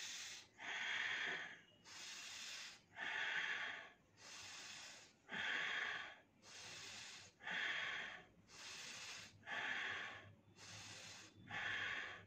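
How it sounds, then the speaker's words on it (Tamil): Slow, deep yogic breathing by a person doing a home breathing exercise: about ten even breaths alternate between inhaling and exhaling, each lasting around a second. The airy rushes sound close and regular, with no talking. "நல்லா மூச்சு உள்ளிழுத்து வெளிவிடணும்"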